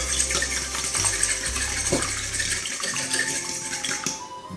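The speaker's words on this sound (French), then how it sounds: "à l'aide d'une fourchette ou d'un fouet, venir battre un peu les œufs" Eggs beaten with a fork or whisk in a salad bowl, a rapid run of clinking strokes against the bowl over steady kitchen background, then a pause near the end.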